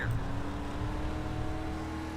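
Dirt street stock race cars roaring around Weedsport Speedway in iRacing, a steady loud engine drone with a high whining tone, close and continuous without talking.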